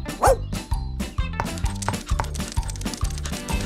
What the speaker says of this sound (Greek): κουνάει την ουρά του και γαυγίζει με ενθουσιασμό